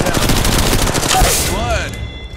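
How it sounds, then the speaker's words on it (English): Rapid R-31 rifle fire in the Apex Legends Mobile video game, a dense burst of loud gunshots running through most of the clip, then tailing off into ringing game effects. "try the R31 and shoot it down"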